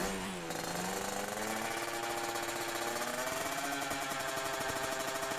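A modified Toyota Revo pickup truck's engine revs hard in GTA San Andreas, a dense, buzzing rattle held at high revs and heard fairly faintly throughout.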